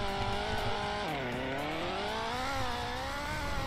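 An RTF track race car in the Roblox game Greenville drives with a continuous engine drone whose pitch dips and climbs as it shifts and revs, steady and fairly close.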